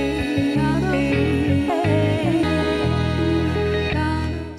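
A looping Elektron Digitakt II drum machine beat with a deep bass line and a short sampled melodic phrase at the end of the pattern, steady and loud with no voices.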